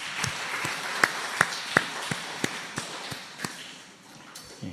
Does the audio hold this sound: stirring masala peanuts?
no